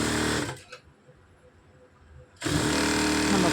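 An electric sewing machine stitching the princess-cut back of a blouse: a loud, steady whirring run, a quiet pause of nearly two seconds, then the machine starts again and runs steadily, close up.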